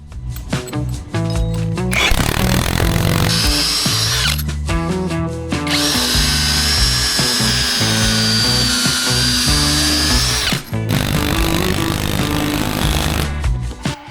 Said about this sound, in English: pre-drill holes for the lag screws and partially install them